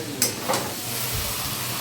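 Potato and capsicum filling is stirred in a frying pan, a soft continuous sizzle with two quick spoon scrapes near the start, close and moderate in level.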